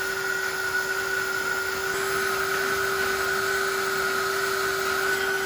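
A steady, high-pitched whining electric heat gun runs continuously at close range on the Polytec hull of a 2021 Sea-Doo GTI 230, droning without pause.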